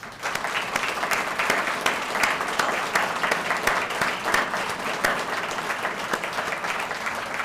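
Audience applause at the Livingston County 2022 State of the County Address for an official retiring after 14 years of service, steady clapping from a large crowd sustained at even loudness throughout with no break.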